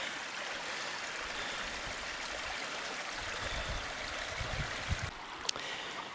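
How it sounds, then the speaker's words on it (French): The Boulay river, fed by a lake outlet, rushes and gurgles steadily outdoors as a continuous broad wash of flowing water, with a brief sharp knock near the end. "Ben voilà, rivière Boulay."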